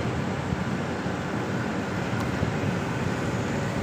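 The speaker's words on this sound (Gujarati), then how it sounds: "ટ્રાફિક છે પુલ ઉપર" Steady, dense traffic noise on a bridge, a continuous broadband roar of passing vehicles, including heavy trucks, heard from inside a moving truck, with no voices.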